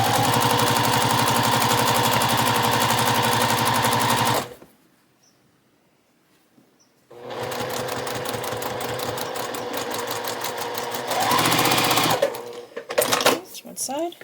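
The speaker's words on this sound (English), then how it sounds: "Let's lay this down and stitch these on" A sewing machine stitches fabric panels onto a zipper for a small embroidered pouch, running loud and steady for about four seconds, stopping briefly, then starting again with a second long run that ends in uneven bursts.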